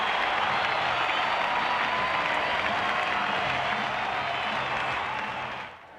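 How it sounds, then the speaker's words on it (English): A packed baseball stadium roaring and applauding after the Atlanta Braves win in 1991, a broad, steady wall of cheering that holds for several seconds, then fades at the end. "Listen to this crowd."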